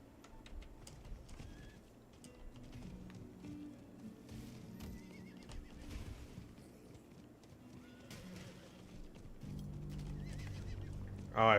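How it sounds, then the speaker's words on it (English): A horse mount in the Diablo 4 video game whinnies and neighs amid clip-clopping hooves, faint and mixed with game ambience and bird calls, ending in louder hoofbeats. "Oh, I forgot about my horse and mount."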